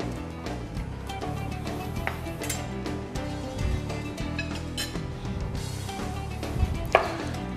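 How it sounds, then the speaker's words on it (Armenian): A knife cuts a lemon lengthwise, with soft chopping taps and a few faint clinks of kitchenware, fairly quiet throughout and no talk. "Կիտրոնը կարող ենք կտրատել այսպես երկարությամբ"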